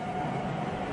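A train arrives in an archival newsreel, a continuous low rumbling roar of rolling rail cars, steady and fairly loud for about a second without speech.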